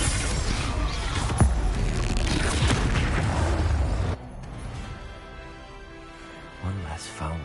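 Confringo fire-blast spell exploding in the Hogwarts Legacy video game: a loud broadband burst with a sharp crack near 1.4 s and a dense rumbling blast over the first four seconds, then quieter combat sounds with a voice near the end.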